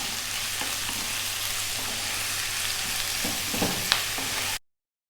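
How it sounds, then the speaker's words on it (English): Potatoes and green beans frying over above-medium heat for an Indian-style dry fry, with a steady, even sizzle and a few soft stirring scrapes, ending in sudden silence. "stirring often."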